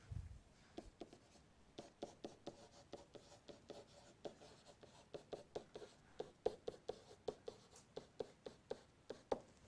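Handwriting in capital letters while working a math example, a close, steady series of short scratchy pen strokes that speeds up and grows louder toward the end, no talking.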